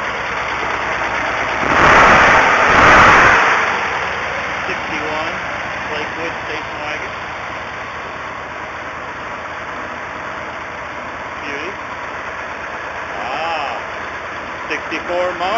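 A Polaris vehicle idling in a workshop, a low steady engine rumble throughout, with a louder burst of noise near the start.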